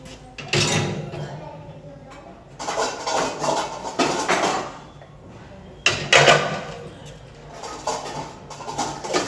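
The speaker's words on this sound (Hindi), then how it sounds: "इसमें मेरे सारे बड़े बर्तन होते हैं" Large kitchen pots and utensils clatter and knock as they are handled during a kitchen cleaning. The bursts come in irregular, close groups with pauses between them, and faint talk sits underneath.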